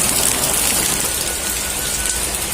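Steady, dense rain falls outdoors in a Sundanese village setting, a constant loud hiss with no voices or breaks throughout the short stretch.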